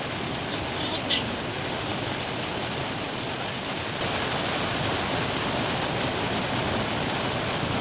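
Rain falls steadily at a seaside campsite, a dense even hiss that continues without a break and thickens slightly partway through.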